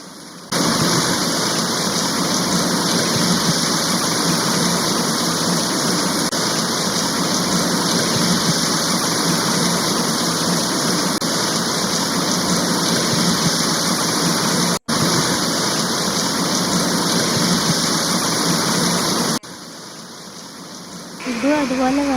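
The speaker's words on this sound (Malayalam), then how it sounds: "ആ കണ്ട സ്ഥലം ശരിക്കും പുഴയൊന്നുമല്ല, റോഡാണ്. റോഡിലുള്ള വെള്ളമാണ് കണ്ടത്." Floodwater from heavy rain pours across a road in Monterrey during Hurricane Alberto. It makes a loud, steady roar with no breaks, then eases a little near the end.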